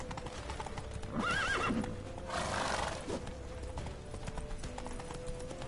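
Video game audio: hooves clip-clop steadily while a horse neighs loudly, followed by a snorting whinny, all over a constant background hum.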